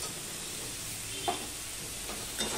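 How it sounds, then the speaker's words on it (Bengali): Potatoes and pointed gourd with a little turmeric cook in a pan under a close, even sizzle. A couple of soft stirring scrapes break in near the middle and end. "আলু আর পটলটা দিয়ে মিশিয়ে নিয়ে আমি কিছুক্ষণ রান্না করে নেব"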